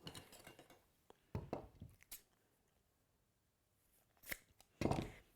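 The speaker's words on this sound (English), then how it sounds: "Find the middle and snip." Fabric being snipped with scissors while making a Tilda bird cushion, a few short crisp cuts near the start and again at the end, separated by quiet.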